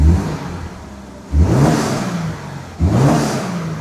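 A Toyota GR86 on its stock intake revs up in two sharp bursts, each rising quickly and then settling into a muffled, somewhat flat engine drone, heard close with no one talking.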